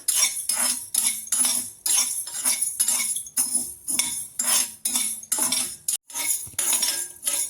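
Spoon scraping and stirring ingredients in a pan dry-roasting over a medium flame for sweet seedai, a steady run of close, rhythmic metallic scrapes and clinks about twice a second with no talking.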